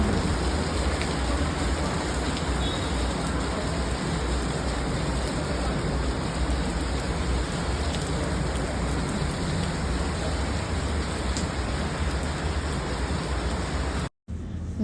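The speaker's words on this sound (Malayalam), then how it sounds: "മഴ നിൽക്കുന്നേ ഇല്ല." Heavy rain pours steadily in Kochi as a loud, dense, unbroken hiss, constant throughout, with no voices.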